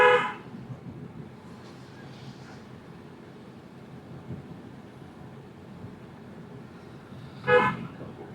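A car horn sounds twice while driving in traffic, one short toot at the start and another several seconds later, over a steady low road and engine rumble.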